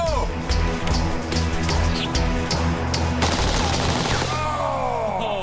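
A C96 pistol and a commie pistol fire full auto in a Deadliest Warrior test, loud close rapid bursts of shots with a few separate cracks, ending in a ringing whine.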